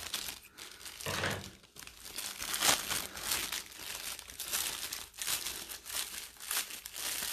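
Plastic protective film crinkling and tearing as it is peeled off leather that has paint and transfers on it, a close, quiet run of crackles and rustles that goes on for several seconds.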